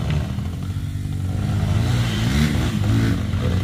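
Motorcycles rev on a mountain trail, their engines producing a steady, close mid-pitched drone that rises and falls with throttle blips, loud and continuous throughout.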